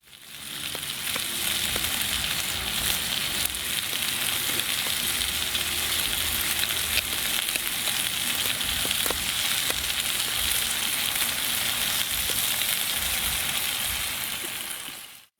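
Chicken and bacon fry in a pan over a twig-fuelled outdoor stove, giving a steady, dense sizzle with scattered crackles and pops throughout, close and continuous, no voices.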